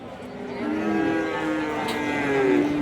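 A bullock moos loudly and close by at a village cattle market, one long, drawn-out low call that holds steady for a few seconds.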